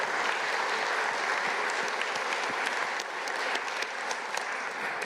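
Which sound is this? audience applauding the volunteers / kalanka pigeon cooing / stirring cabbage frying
audience applauding the volunteers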